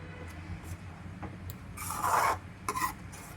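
A spoon scrapes and rubs through a cashew sweet mixture for kaju katli, giving short, soft rasping strokes at close range, with two louder scrapes near the end.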